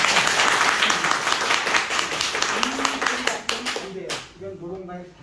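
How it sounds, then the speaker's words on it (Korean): A golf-event audience breaks into frantic, dense 'Kim Il-sung style' clapping, fast and wild rather than rhythmic. It is loud and close for about four seconds, then cuts off abruptly and voices take over. "박수를 치는데 김일성 박수 아시죠?"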